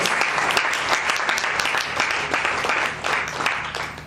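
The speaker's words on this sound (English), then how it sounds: "Please clap" A school audience at a welcome ceremony claps steadily in a dense, sustained round of applause with no voices over it.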